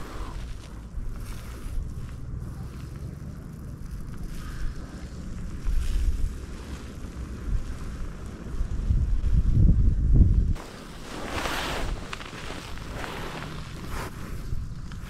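Strong gusts batter the microphone beside a river during fly fishing, rising into a heavy low rumble near the middle before easing back to a steady breezy hiss.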